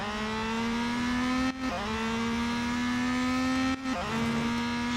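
Peugeot 9X8 race car engine in the Real Racing 3 game, a loud steady high whine climbing in pitch, dropping sharply twice at gear shifts before rising again, alone with no talk.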